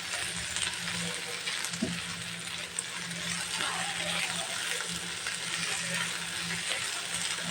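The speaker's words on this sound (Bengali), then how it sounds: "ভালো করে একটু ভেজে নিতে হবে।" Greens cooked with dried fish sizzle steadily in a pan, a close, continuous hiss with a few small clinks and scrapes of stirring.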